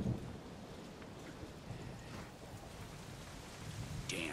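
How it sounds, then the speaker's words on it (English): A rainstorm with thunder in the Deadlight video game: a constant low wash of rain with dull rumbles underneath, fairly quiet, with no talk. "Damn storm."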